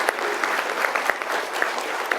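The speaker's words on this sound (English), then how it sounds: "I need to ask the audience to applaud for two things" A lecture-hall audience gives steady, moderately loud applause for a New York Times journalist at the close of an afternoon talk, with dense overlapping claps and a few sharper individual claps standing out.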